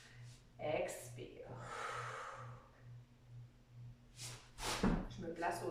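Audible breathing out during a guided posture exercise, with a couple of airy exhale bursts mixed with a voice speaking and some light movement noise.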